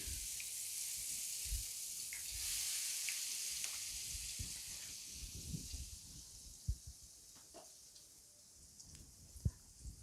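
Tempura batter bubbling in boiling oil for Japanese shrimp tempura, a soft continuous sizzle with scattered pops and clicks, fairly quiet.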